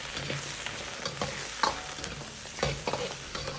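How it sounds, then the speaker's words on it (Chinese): Pork ribs are stir-fried in a wok, a soft steady sizzle punctuated by several distinct scrapes and clatters of the spatula tossing the meat. "继续翻炒几下"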